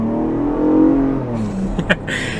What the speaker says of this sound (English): So actually getting up and moving here with the Bronco Raptor